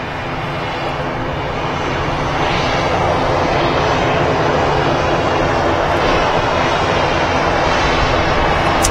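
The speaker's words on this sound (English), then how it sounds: "Another EasyJet A330 on the taxi out." An EasyJet A330 airliner taxiing out at Manchester Airport, its engines giving a steady loud whine and roar that swells slightly and then holds, heard from nearby with no voices.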